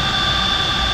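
Jet engine of a Blackburn Buccaneer aircraft idling during a twilight taxi run, a loud steady whine with a constant high tone over a low roar, no voices.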